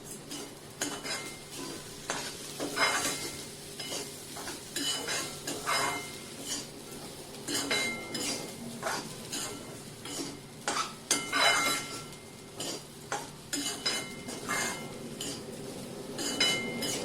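A spatula scrapes and clinks against a pan in irregular strokes while vatli dal (ground lentils) stir-fries with a faint sizzle underneath; no one speaks.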